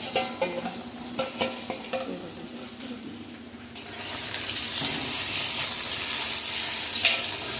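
Frying in oil in a home kitchen, a few sharp spoon taps and scrapes against the pan at first, then a rising, steady sizzle that fills the second half.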